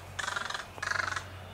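Two harsh, drawn-out crow caws on a golf course, moderately distant, over a steady low outdoor hum, with no talk.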